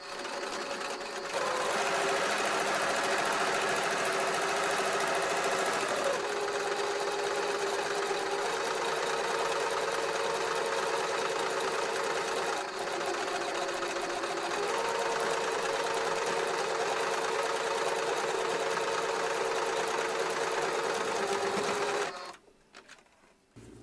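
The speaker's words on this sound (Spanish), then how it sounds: "Cosemos todo alrededor con medio centímetro de costura." Sewing machine stitching around the pocket bag of school trousers with a half-centimetre seam, a loud steady motor hum with rapid needle rhythm running continuously close up for over twenty seconds before stopping.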